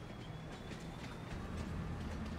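A rented train in Farming Simulator 25 gives off a steady, dense rumble with faint rhythmic clatter. The sound holds even and fairly loud throughout, with no talk.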